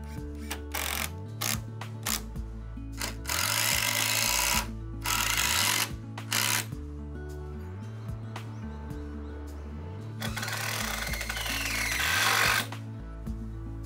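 A power driver drives screws into the wooden beams of a woodshed in repeated loud bursts, whining and chattering as each screw bites in, with short pauses between the runs.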